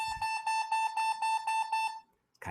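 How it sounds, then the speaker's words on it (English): A loud, high electronic beep pulses about eight times in a quick, even rhythm, then stops, followed by a brief rustle. "It's really loud, but it's a beeping softball."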